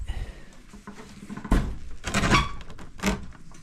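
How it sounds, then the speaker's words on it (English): A door at a mountain tramway building closes with a solid thunk, followed by a couple of further knocking and rattling impacts as it settles, heard fairly close with no talking. "Close the door."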